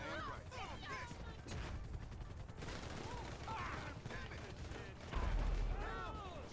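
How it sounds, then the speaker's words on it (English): Bursts of rapid gunfire and booming blasts crackle through a dense, chaotic battle din during a video game heist, with a sharp explosion in the air thumping out near the end. "What was that explosion in the air?"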